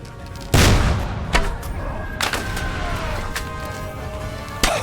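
Loud cannon blasts in the medieval game Kingdom Come Deliverance 2: a heavy boom, then several more reports spaced a second or so apart, ringing out over a continuous battle din.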